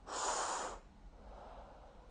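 Single strong breath drawn in sharply through the nose during a guided breathing exercise, close and airy, followed by quiet room tone.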